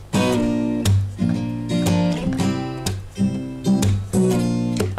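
Acoustic guitar strumming a song's chorus chords, including a barre chord, in a lively, syncopated pattern of crisp strokes, loud and close with no voices.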